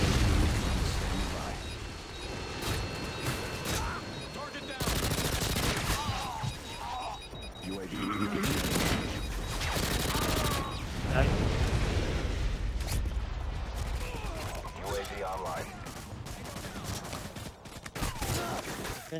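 Gunfire in a Modern Warfare 2 Demolition match on Skidrow, with bursts of shots and blasts recurring throughout while players talk over the action.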